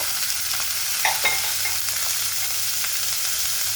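Vegetables being stir-fried in a pan with fried peanuts, giving a dense steady sizzle broken by a couple of clinking, scraping spatula strokes, close by with no talking.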